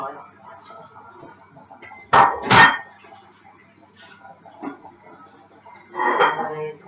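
A cooking pot clanks and scrapes sharply twice in a home kitchen while minestrone is made, followed later by another metallic rattle, with a dog barking and people talking around it.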